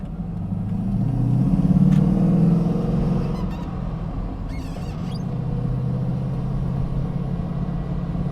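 An Audi RS5 engine rumbles steadily, swelling louder around the second mark before settling into a sustained low drone with no talking.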